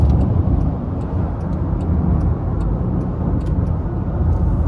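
A 2023 Land Rover Defender 90X accelerating on the road, a steady, loud engine and road drone heard from inside the cabin with no pauses.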